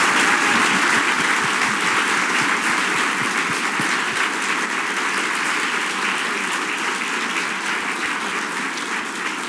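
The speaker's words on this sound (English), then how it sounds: "Round of applause." Sustained applause from a campus audience at an executive speaker series, a dense, steady wash of many hands clapping for the full length, loud and even, tapering only slightly toward the end with no talk over it.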